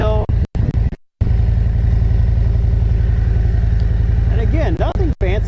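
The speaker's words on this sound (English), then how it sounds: "Throttle up a little bit there because I am going uphill" A Harley-Davidson Road Glide or Street Glide engine throttles up gently at slow speed while climbing uphill, a loud, close, steady low rumble with a few abrupt dropouts early on and some wavering whine near the end.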